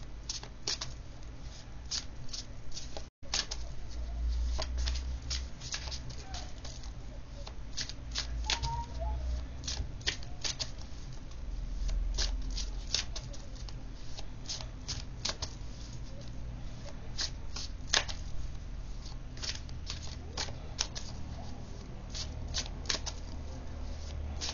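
Tarot cards shuffled during a card reading, a long run of dense, rapid papery riffles and flicks, close and steady throughout, with a brief dropout near the start and no audible talking.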